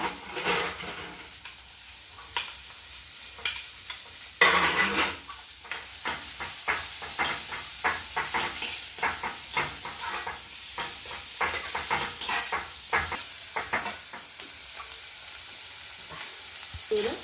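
Onions and green chilies frying in a pan, a steady sizzle with repeated scraping stir strokes of a spoon against the metal, close and continuous with no talk.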